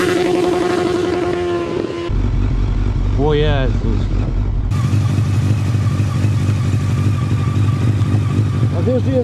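A sport motorcycle engine revs hard and loud near the listener, its pitch rising and holding steady, while people talk and exclaim over it.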